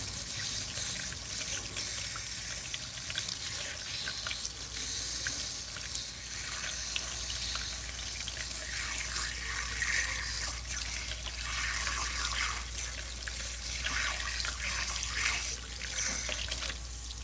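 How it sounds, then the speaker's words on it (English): Steady tap water runs continuously into a sink while waiting for it to warm up, a constant broadband hiss at moderate level with no talking. "I'm just waiting on this water to warm up."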